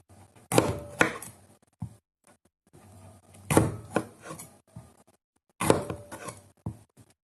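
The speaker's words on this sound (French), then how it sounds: "on va faire nos petites lamelles de poivron" A ceramic knife slices a bell pepper into strips on a board in three distinct bursts of quick close cutting taps, each separated by a short pause.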